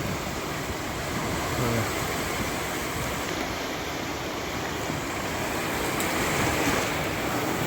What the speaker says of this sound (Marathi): हा येणारा लाटांचा आवाज बघा पाणी बघा जसं येते तसं परत मागेही जाते बघा